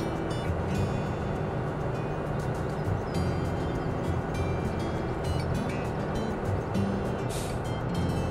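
Train in Farming Simulator 17 rumbling along at close range, a steady heavy mechanical drone with rattling clanks and no voices over it.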